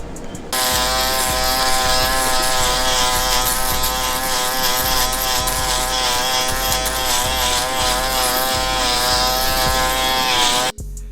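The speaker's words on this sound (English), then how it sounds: "now it's time for the shaver to do the job and finish it off" A close electric shaver shaving a head bald buzzes steadily and loudly for about ten seconds, a constant harmonic drone that cuts off abruptly near the end.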